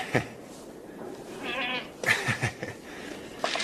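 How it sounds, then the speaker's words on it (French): Goats rescued from a failed farm bleat in a stable, a few wavering cries rising over a quiet barn background with some brief noises between them. "Les chèvres viennent d'une ferme qui a fait faillite."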